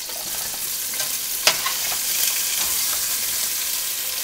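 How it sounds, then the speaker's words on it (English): Potato pulao fries and sizzles in a pan while being stirred, giving a steady close crackling hiss with a sharp scrape of the spoon partway through and softer stirring scrapes after. "Give it a little stir."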